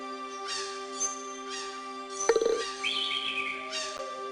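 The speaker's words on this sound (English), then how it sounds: "That is one of my royal bird whistles." A royal bird whistle in the Carmen Sandiego's Great Chase Through Time video game, set in the Aztec Empire of 1519, gives several short, clear chirping calls, bright and close, with no talk over them.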